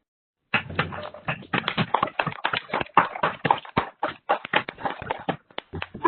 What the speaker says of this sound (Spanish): les puedo pedir que activen su micrófono para darles un fuerte aplauso